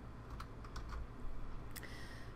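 Keys clacking on a computer keyboard while a Thunderbird email server setting is entered on a Windows 7 PC, a short run of quiet, close taps and clicks in an otherwise hushed room.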